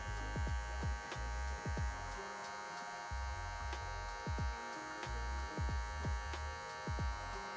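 Electric hair clippers buzz steadily up close with the lever fully closed for a low taper haircut, a constant hum punctuated by brief clicks and taps of the blade against hair.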